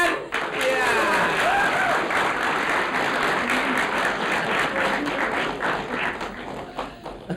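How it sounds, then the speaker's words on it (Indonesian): Studio audience clapping on a comedy talk show, a bright burst of applause that swells quickly after a brief pause and holds strong, with voices mixed in underneath. "Oke, tepuk tangan."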